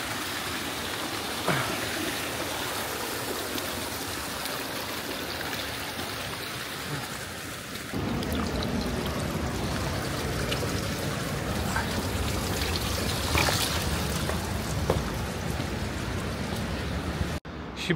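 Waterfall in the Himalaya mountains, a steady broadband rush of flowing water that grows louder partway through and carries on without a break.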